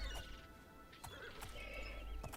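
A horse in a video game whinnies while its hooves clip-clop in a steady, close, fairly quiet rhythm, with sharp hoof strikes standing out and no speech.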